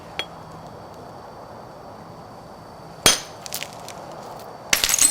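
A flint knapper strikes a stone blade on a large Texas piece, giving a sharp glassy click followed by a couple of smaller ticks, then another crisp strike near the end, against a quiet background.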